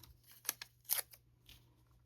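Scissors snipping through a paper card piece, a few crisp close cuts in quick succession, then a softer trailing snip in a quiet room.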